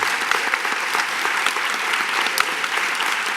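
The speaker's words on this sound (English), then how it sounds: "let's give applause to them" Conference audience applauding at a panel on the brain and reading, a dense, even burst of many hands clapping throughout, fairly close and steady.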